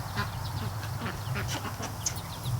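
Ducks quack on a lake in short scattered bursts against a low steady hum, several birds calling at moderate distance.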